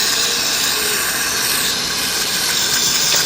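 Carb cleaner sprayed over small carburetor parts from a TS185 motorcycle, giving them a bath: a steady, loud, continuous aerosol hiss running unbroken at close range with no talking.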